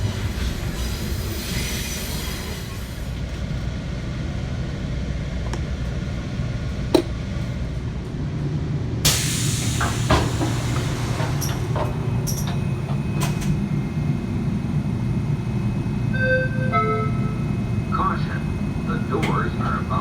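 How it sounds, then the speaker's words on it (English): Interior of a Metra Highliner electric multiple unit on the Metra Electric District South Chicago Branch, with steady rolling rumble, wheel squeal and clicks, someone talking throughout and brief chime-like tones near the end. "Now let's talk a little bit about this train that we're on. It's an electric multiple unit known as the Highliner."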